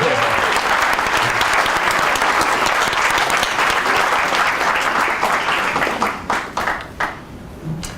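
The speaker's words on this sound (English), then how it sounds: "how about a round of applause for our parents?" Guests at a wedding ceremony applaud in a dense, sustained round of clapping that thins into scattered claps near the end, filling the room at close range.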